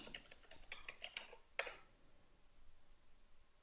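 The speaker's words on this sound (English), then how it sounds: "Let's open up a browser and we'll type Facebook.com." A computer keyboard is tapped in a quick run of light clicks as a web address goes in, ending with one firmer keystroke, then quiet room tone; close and faint with no voices.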